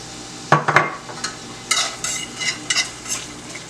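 Garlic sautéing in olive oil in a pan for a chicken stir fry: a soft, steady sizzle broken by a few sharp scraping stirs near the start, then lighter intermittent clinks and scrapes.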